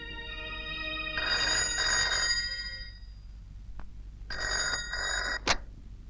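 A telephone rings in two loud bursts of bright electronic ringing with a pause between them, followed by a short sharp knock, all close and without speech.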